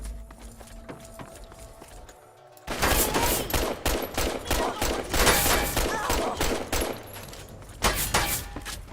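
Rapid pistol gunfire in Fallout: Tale of Two Wastelands, loud shots cracking in a dense, fast string after a quieter stretch of game ambience, with a brief pause and a final burst.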